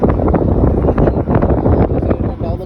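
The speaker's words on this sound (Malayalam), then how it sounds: "ഇപ്പം നല്ല തണുത്ത കാറ്റ് കിട്ടും." Cold wind buffets the microphone on a road trip, a loud, continuous, gusty roar with no clear break.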